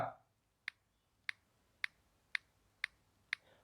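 Seven sharp, evenly spaced clicks from a chat app's typing keys, played through Boat Nirvana 751 ANC wireless earphones, each a crisp tick about half a second apart against near silence, after a brief voice at the start.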